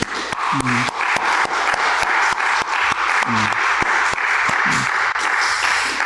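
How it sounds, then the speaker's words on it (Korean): A church congregation claps steadily and continuously for several seconds at an early-morning prayer service, a dense wash of applause filling the room at an even level. "우리 서로 격려와 하나님께 영광의 박수를 좀"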